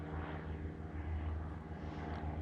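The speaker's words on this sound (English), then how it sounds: "isn't that the perfect time for a plane to fly over?" An airplane passes overhead in an outdoor garden, a steady, continuous low engine drone that holds fairly loud and even throughout with no talking.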